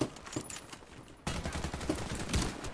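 McMillan CS5 sniper rifle gunfire in the video game Warface comes as a few sharp reports over a busy, crackling background of other gunfire, with one louder burst midway.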